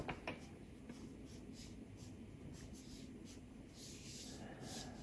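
Pencil sketching on paper while drawing WALL-E's feet, a steady soft scratchy rubbing that continues close and fairly quiet throughout, with brief stroke accents and no talking.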